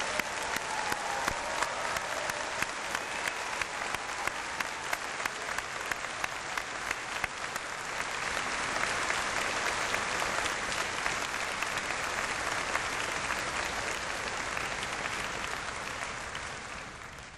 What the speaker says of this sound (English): I believe our graduating class, they deserve a round of applause for their fantastic achievement.